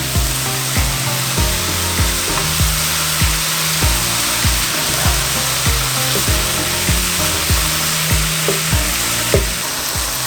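Chopped garlic and a meat mixture sizzle loudly in a pan for a lasagna while a utensil stirs them. Fast scraping strokes repeat in a steady rhythm over constant frying hiss.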